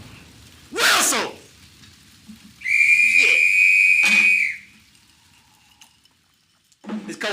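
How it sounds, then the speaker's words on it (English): A loud, sustained high whistle rings out for almost two seconds with a buzzy edge, preceded by a brief noisy burst and followed by quieter scattered sounds. "Whistle."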